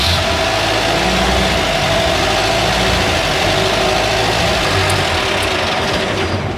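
A UAZ Bukhanka van's engine idles loudly and close by, a dense, steady rumble with a constant low throb and no break or talk over it.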